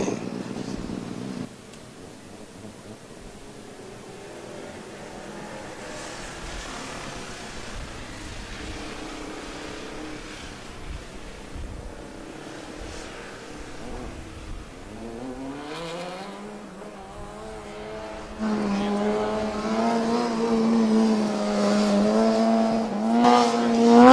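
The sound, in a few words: Formula Student combustion race car engine driving skidpad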